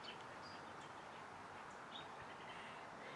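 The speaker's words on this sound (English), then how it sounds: "The birds are all singing." Birds sing faintly outdoors near a violin maker's workshop among red maple trees, scattered distant chirps over a soft, steady ambient hiss with no talking.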